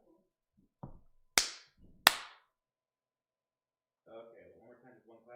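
Two sharp hand claps ring out close by about a second apart, with a fainter tap before them, followed by muffled speech.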